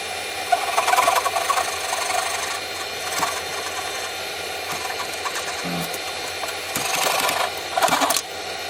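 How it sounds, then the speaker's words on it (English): Sandpaper at 180 to 400 grit rubbing against a spinning wooden Christmas ornament on a lathe, a steady whirring rasp with the motor hum beneath and brief louder passes near the start and end. "Just working through the grits now, starting off with 180, then 240, 320 and 400."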